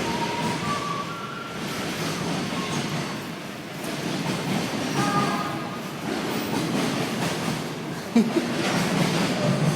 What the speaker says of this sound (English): Train overhead.